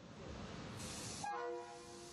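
A train at Auckland's Britomart train station rumbles steadily in a large enclosed space, then a sustained horn sounds briefly at moderate distance, with no talk.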